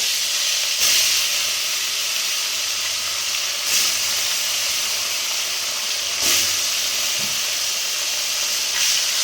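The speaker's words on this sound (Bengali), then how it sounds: "মাছগুলোকে কিন্তু এবার একটা একটা করে ভাজতে দিয়ে দেবো কড়াতে।" Fish pieces coated in salt and turmeric frying in a karahi wok, a constant loud hissing sizzle broken every few seconds by brief bursts of spattering or stirring.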